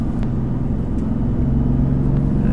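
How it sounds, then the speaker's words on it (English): A 2015 BMW M3 or M4 braking hard in a straight line on the Road America circuit while downshifting to third gear, with a loud, steady engine and road rumble filling the cabin and a few brief blips between. "Hard brakes, straight line down to 3rd gear."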